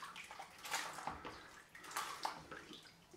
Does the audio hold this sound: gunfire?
no